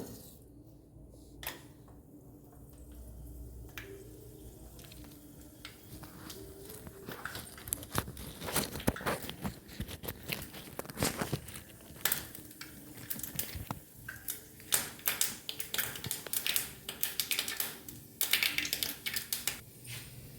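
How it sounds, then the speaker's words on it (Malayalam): Mustard seeds pop in hot oil in a small-handled pan: dense, irregular crackling and popping, sharp little bursts scattered throughout and growing busier toward the end, with a steady low hiss underneath. "നമ്മൾ കടുക് പൊട്ടിക്കാൻ വേണ്ടി ചെറിയൊരു പിടിയുള്ള ചട്ടി എടുത്തിട്ടുണ്ട് എണ്ണ ചൂടായി വന്നിട്ടുണ്ട്"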